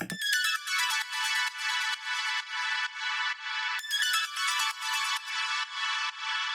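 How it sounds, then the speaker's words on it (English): Bright synthesizer notes play in a quick repeating run descending down a scale, in rhythmic pulses, with no talking. "a whole bunch of notes played down the scale"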